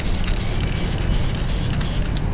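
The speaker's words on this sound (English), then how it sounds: "I will usually spray on the brush." A steady hiss of a spray bottle being pumped, spraying kerosene onto a brush for cleaning a bike chain, short bursts blending into continuous close-up spraying.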